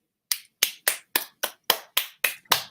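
Nine crisp, evenly spaced hand claps or snaps at a live comic book pop-up show, close and loud with near silence between each.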